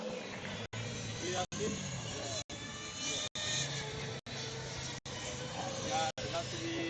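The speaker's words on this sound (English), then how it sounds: "it sounds like we're getting another combustion car on the track" A Formula Student combustion race car drives on the track at an endurance event, its engine heard at a distance as a continuous mechanical drone, cut by brief gaps.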